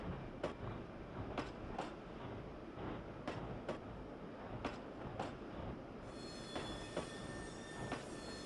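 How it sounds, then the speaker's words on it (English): A narrow gauge Denver & Rio Grande Western train in the game Trainz 2009 rumbles steadily at low volume as it exits a tunnel, with sharp periodic clicks of wheels over rail joints. "we find the train exiting the east portal of Rock Tunnel"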